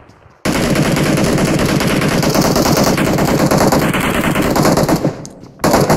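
Loud, sustained rapid-fire gunfire in PUBG Mobile, bursts rattling continuously for several seconds with a short lull near the end.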